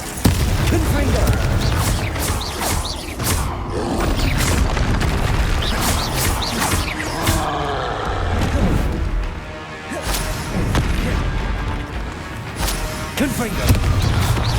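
Confringo blasting spells in Hogwarts Legacy, a game, set off a rapid series of loud booms, crashes and whooshes over fourteen seconds, with a voice talking over the combat.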